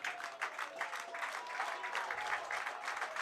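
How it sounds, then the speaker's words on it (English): Crowd at a college baseball game between La Crosse and Stevens Point clapping and cheering steadily in a moderately distant, continuous wash of applause. "Crowd getting into it now"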